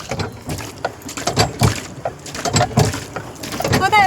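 A boat is rowed across water in the dark in a park, with rhythmic splashes, sloshing and rumbling hull noise close to the microphone, mixed with wind and occasional voices.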